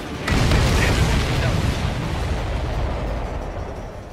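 Supply ships shot down in a video game burst into a heavy, booming explosion that rolls on as a long, loud rumble for several seconds.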